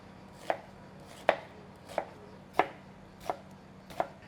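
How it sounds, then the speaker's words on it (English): A knife chops an onion on a cutting board for Peruvian beef stew, six crisp, separate knocks at an unhurried, slightly uneven pace, close and clear, with no talking. "So we start by chopping onion."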